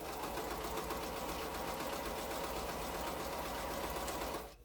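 Sewing machine stitching a quilt seam, a continuous fast rattling hum of needle and motor, steady and close, stopping abruptly at the end.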